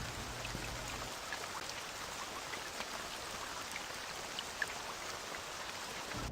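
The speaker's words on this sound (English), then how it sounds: "And you see how that rain is like above the map?" Rain in the video game Angel Falls, a steady even patter of falling drops with a few brighter ticks, no talk over it.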